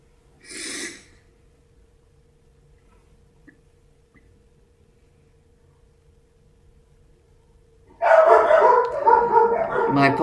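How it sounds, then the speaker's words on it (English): Dogs bark in another room while someone plays chess indoors. A brief burst comes near the start, then a long quiet stretch, then a loud, busy run of overlapping barks at the end. "My dogs are barking yet again."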